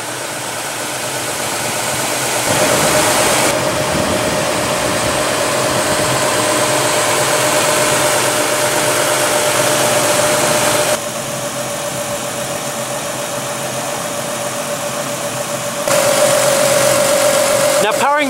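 A 2017 Lexus GS F Sport's 3.5-liter V6 hums at a steady idle, a continuous mid-pitched drone with a faint whine, while someone talks over it.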